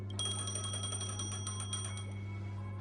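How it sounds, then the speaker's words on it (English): A telephone rings in a video game, with a bright, repeating electronic bell trill that pulses steadily for about two seconds over a constant low hum, then fades out. "Oh. A phone."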